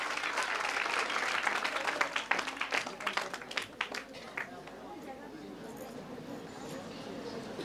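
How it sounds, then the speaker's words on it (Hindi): An audience at a school event applauds children honoured with certificates, loud dense clapping opening the clip with sharper individual claps standing out, then thinning to a softer patter with some murmuring by the end. "एक बार जोरदार तालियां हो जाए इन बच्चों के लिए।"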